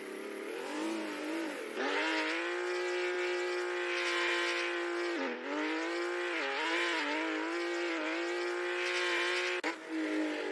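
Race cars lapping in a virtual racing game, engines screaming loudly and continuously through the gears, the pitch dipping and climbing again as each car brakes and accelerates through the corners.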